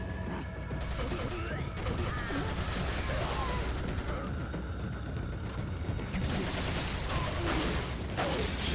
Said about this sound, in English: use the machine gun now